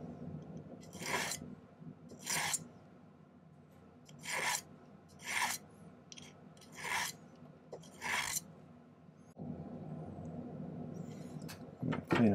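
A metal file rasps against a silver ring bezel during silversmithing, six distinct strokes spaced evenly and close by, followed by a quieter stretch with a faint low hum.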